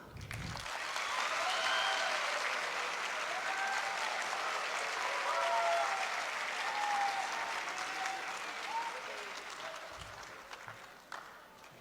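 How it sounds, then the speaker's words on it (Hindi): Sustained audience applause at the Pakistan Literature Festival, Arts Council of Pakistan in Karachi, welcoming the actor Shaan on stage; a steady, full round of clapping that holds for several seconds before gradually thinning out. "आप सबकी तालियों में शान।"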